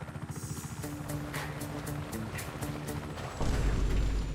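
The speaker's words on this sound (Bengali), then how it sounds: "হেলিকপ্টার পানির মধ্যে ল্যান্ড করছে" A helicopter in the video game Just Cause 3 comes down onto water, its rotor chopping in a rapid steady pulse before a sudden louder rush of engine and splashing water takes over.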